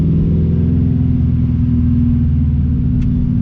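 An LS-swapped BMW E46 drives along at steady low speed, its deep engine rumble droning evenly throughout with no voices.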